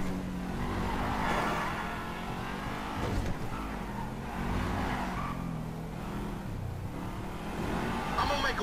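Car engines race and rev in GTA 5 on PS4 during Lamar's race, a steady loud engine drone with shifting pitch and a brief tire skid, with some background voice or music mixed under it.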